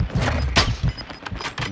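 Enemy gunfire in the Modern Warfare II video game, a quick burst of several sharp shots and thumps over under two seconds, fairly loud and close.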